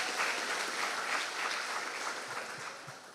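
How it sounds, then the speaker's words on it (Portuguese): A church congregation applauds the Lord during a Sunday sermon, a sustained, crowded patter of clapping that gradually tapers off toward the end. "Você pode dar um aplauso ao Senhor?"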